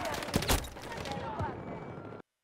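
Gunfire from the Battlefield 2042 video game, dense overlapping shots and bursts in a busy firefight with loud sharp cracks early on, under players talking throughout before it cuts off abruptly.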